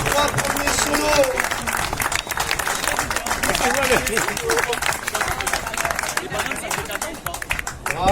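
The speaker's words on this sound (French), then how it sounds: "On peut l'applaudir très fort." A crowd at a Titan Game event in Albi applauds podium winners, steady clapping mixed with voices and cheering throughout, fairly close and loud.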